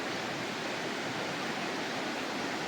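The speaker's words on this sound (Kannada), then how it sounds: "ಇದು ಸೂಪರ್ ಡ್ಯಾಮ್ ಕಡೆಯಿಂದ ನೀರು ಬರುತ್ತಿದೆ." River water flowing down from the Supa dam, a steady broadband rushing roar, even and continuous with no talk.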